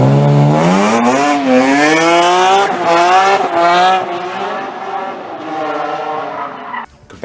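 A BMW E46 M3's S54 straight-six, a dual overhead cam 24-valve engine with an 8,000 RPM redline, revs hard through rising, wailing pitch sweeps, loud and close, then drops off toward the end.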